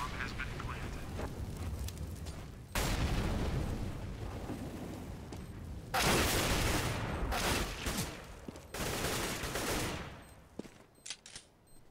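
Gunfire in a Counter-Strike match on the Dust 2 map during a professional esports game, with bursts of automatic fire and sharp shots in several clusters, loud and close, mixed with crowd and caster voices in the background.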